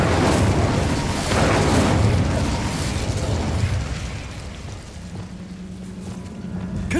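Incendio fire spell cast in a Harry Potter video game: a loud, dense roaring burst of flame that holds for several seconds, then dies down into a lower rumble with a steady hum underneath.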